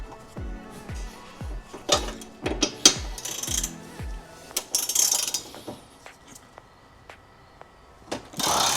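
Ratchet wrench loosening a 14 mm strut brace bolt on a BMW G87 M2, heard as a run of quick, regular clicking strokes at close range, pausing between turns, with other tool handling noises around them and no talk.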